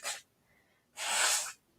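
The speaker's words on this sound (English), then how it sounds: "You'll have to excuse me while I blow my nose in between talking and clear my throat." A person blows their nose twice, a short sharp burst followed by a longer, louder forceful blow, close to the microphone with quiet between.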